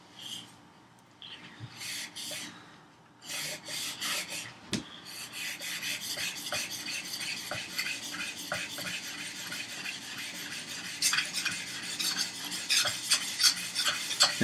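A steel plane iron sharpened by hand on a stone, heard as close, repeated scraping and rasping strokes in an uneven rhythm, growing busier and louder toward the end.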